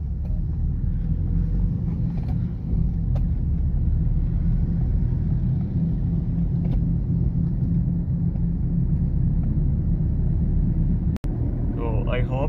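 An LPG-fuelled car driving in second gear with the AC off, heard from inside as a close, steady low engine and road rumble throughout, with a brief faint voice near the end.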